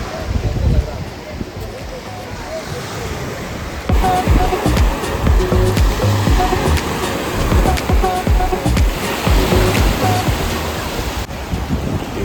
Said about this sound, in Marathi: हे पूर्ण समुद्र आहे यार